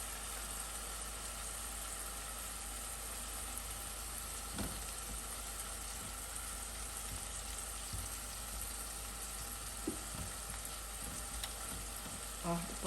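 Filet mignon sears in butter with garlic and thyme, a constant dense sizzle with a low hum beneath and a few soft knocks from the pan, steady and unbroken.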